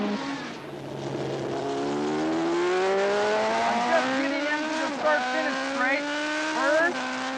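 Racing superbikes accelerate down a track through a turn toward high speed, engines whining in long rising pitch sweeps that climb and drop through gear changes, loud and sustained, with no speech.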